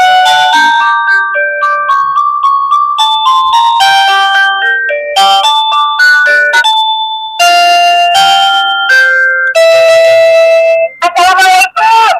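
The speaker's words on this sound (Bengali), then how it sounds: "অনেকেই সালাম কলিং বেল পছন্দ করেন" A remote-controlled digital calling bell for a home steps through its built-in tunes, a run of bright, loud electronic chime melodies switching from one short tune to the next, with no talk.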